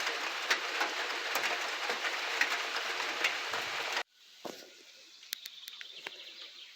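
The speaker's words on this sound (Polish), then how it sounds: "siadłem sobie chwilę na sianku no i obserwuję jak pada" Steady rain falls during a drought around a spot where someone sits on hay at a sheep farm, a dense continuous patter for about four seconds, then a quieter, sparser hiss with a few scattered drips.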